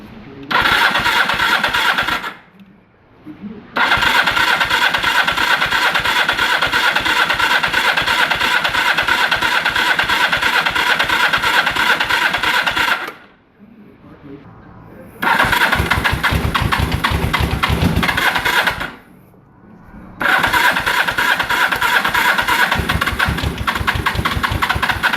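A 1985 Suzuki GS450 motorcycle engine, freshly rebuilt, cranks on its electric starter in long, loud rhythmic bursts close by, with short silent pauses between four attempts and no catch into idle.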